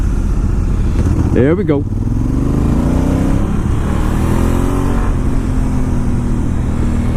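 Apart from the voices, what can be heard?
Honda Africa Twin motorcycle being ridden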